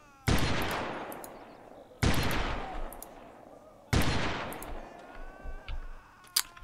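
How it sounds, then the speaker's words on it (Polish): Enemy gunfire in the game Delta Force: Land Warrior, three sharp, loud bursts spaced about two seconds apart, each decaying with an echoing tail, with faint voices in the background. "skoro do mnie strzelają"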